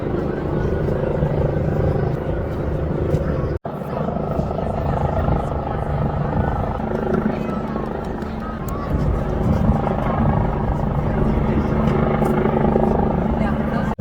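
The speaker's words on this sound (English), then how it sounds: "And finally found the location of that helicopter from before." A helicopter over Buckingham Palace in London drones steadily in the distance, a constant low rotor rumble under crowd noise and talking, with a brief dropout partway through.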